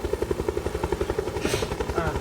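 Helicopter rotor from a Ubisoft video game shown at E3 2016, a steady rhythmic thudding chop close up, with a brief noisy whoosh midway and faint voices talking underneath.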